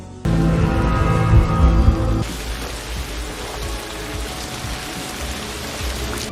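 Heavy rain in a film scene, a dense steady hiss of downpour that starts abruptly, loud for the first two seconds and then continuing a little softer to the end.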